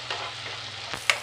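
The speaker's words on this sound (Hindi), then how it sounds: "अब मसाले को हम भूनेंगे" Spice masala for masoor dal sizzles in oil over a low flame, a steady close-up fry broken by a couple of quick spoon scrapes as it is stirred.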